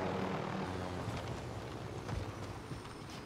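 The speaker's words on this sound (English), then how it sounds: "Yep, I'm dropping the chopper right here." A helicopter comes down to land in the battle-royale game Warzone, giving a steady, loud rotor and engine roar that fills the scene throughout with no talking.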